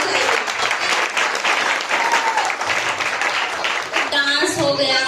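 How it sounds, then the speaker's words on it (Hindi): An audience at a Christmas program claps loudly after a dance, a dense burst of applause with voices mixed in and a brief bit of speech near the end. "एक बार और जोरदार ताली बजाइए।"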